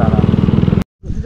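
A Bajaj Dominar motorcycle on a muddy off-road trail near Toranmal gives a loud, close, rhythmic engine thrum that cuts out abruptly for a moment and then resumes.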